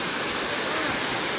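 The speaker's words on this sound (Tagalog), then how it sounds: "Yung tunog ng agos ng tubig ay nakakatuwa na." Loud, constant rush of falling water at Hagimit Falls on Samal Island, Davao del Norte, a dense roaring wash with no pauses or voices, heard up close.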